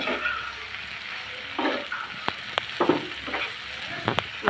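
Egg and eggplant fry uncovered in a pan with a continuous moderate sizzle. Occasional sharp clicks and scrapes of stirring cut through it.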